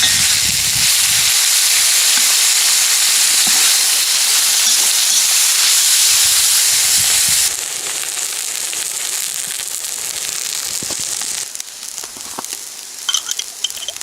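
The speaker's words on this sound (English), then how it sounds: "fry the onion." Onion frying in a pot as the base for a large batch of smoked-meat soup, giving a loud, steady, close sizzling hiss that drops somewhat in level partway through and then carries on evenly, with no talk.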